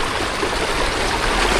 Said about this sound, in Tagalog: Yan po yung tubig ng high tide pag pumapasok.